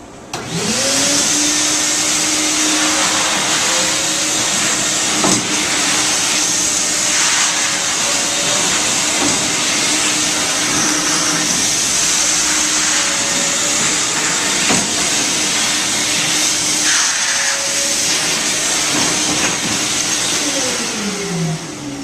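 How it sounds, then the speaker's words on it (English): A wet vacuum sucks up rinse water from a marble floor during polishing, a loud, steady whine that runs without a break for the whole stretch with no talking. "And wet vac it again."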